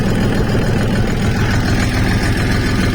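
DTZ 5244 tractor engine running loud and close in a low gear during ploughing, a steady heavy diesel rumble with a constant vibrating throb.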